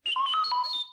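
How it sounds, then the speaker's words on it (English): R2-D2 droid from Star Wars gives a quick warbling electronic beep, a short run of bright chirping tones lasting about a second, alone and close. "You will know it is time to turn the page when you hear R2-D2 beep like this"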